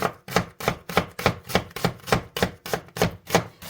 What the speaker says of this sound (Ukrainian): Розпочинаємо ми з цибулі. Нарізаємо її кільцями чи то напівкільцями.